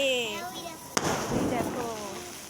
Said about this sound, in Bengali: দেখো কত সুন্দর এটা চার পাঁচ দিয়ে কত বাজি ফাটছে